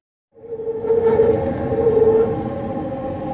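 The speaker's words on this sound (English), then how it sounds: "Quiet, Sky Train, you're being loud." A SkyTrain passes close by with a loud, sustained tonal whine that starts abruptly, rises to a steady siren-like drone and holds without letting up.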